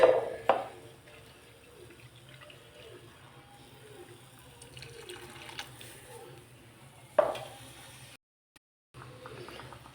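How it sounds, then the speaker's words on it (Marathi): Water is poured into a cooking pan of spice-tempered gram-flour pithla. A splash opens the clip, followed by quiet bubbling and a low hum. A second pour splashes near the end before a brief dropout. "अजून थोडंसं पाणी घालून घेऊ."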